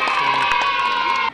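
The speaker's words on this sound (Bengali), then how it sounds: "সঠিক উত্তর, সবাই হাততালি দাও।" Schoolgirls at a girls' high school quiz cheer and shout together in a loud, sustained burst that cuts off abruptly.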